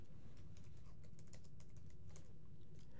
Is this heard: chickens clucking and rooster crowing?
no